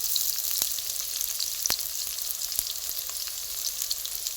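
Garlic dropped into hot oil in a pan while cooking a chicken curry: a constant, bright sizzle with a few faint crackles and taps.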